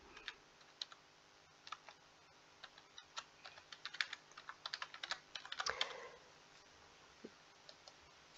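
Keys clatter on a computer keyboard as someone types a short search, quiet irregular clicks that bunch into a quick burst near the end.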